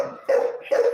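A chow dog barks twice in quick succession, close and clear, the two sharp yips separated by a short pause.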